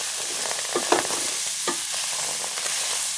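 A spoon pushes vegan food across an oil-free stainless steel pan, giving soft scraping strokes over a constant close sizzle, with a few distinct stir sounds and no talking.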